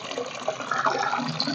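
Egg oil liquid is poured and mixed into water for a terrace garden, a brief continuous splashing and trickling close by with no voices.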